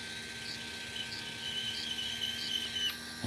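The mouth of a new 6.5x47 Lapua rifle case is chamfered with a hand case-prep tool, producing a close, rhythmic rasping scrape that repeats about every half second over a faint steady hum.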